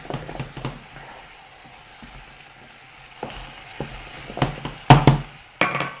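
Vegetables browning in a pan for Antillean chicken colombo, a low sizzle under sparse clattering stirs and scrapes, with a few sharper knocks near the end.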